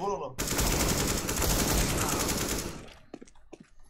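Rapid automatic gunfire in Counter-Strike: Global Offensive, a loud sustained burst lasting a couple of seconds, then a few sparse clicks and softer game sounds as it stops.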